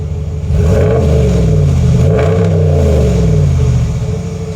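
A 2022 Ram pickup truck engine with a Flowmaster 3" Outlaw aftermarket exhaust revs hard with a deep, throaty exhaust rumble, rising and falling in pitch over a few seconds, loud and close.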